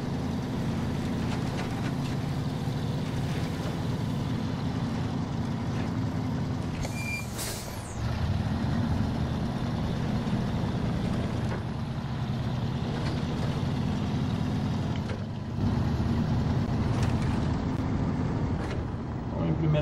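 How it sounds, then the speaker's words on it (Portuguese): A light truck bounces and rattles along in SnowRunner, its steady engine drone broken by brief clunks and jolts, with someone speaking over the sound. "Nossa, o caminhão tá leve, então ele tá pulando."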